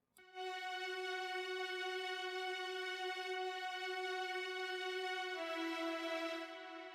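Sampled orchestral strings from Garritan Personal Orchestra 4 hold a single sustained, bright bowed note that shifts pitch once near the end, steady and clear, played alone without any voices.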